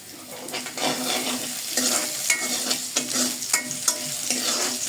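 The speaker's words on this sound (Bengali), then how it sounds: "এখন আমি একটু এগুলো তেলের মধ্যে ভেজে নিব।" Steady sizzling of onions, chillies and potatoes frying in hot oil for pea khichdi, with intermittent scraping and clinks from stirring in the pan, close up and without talk.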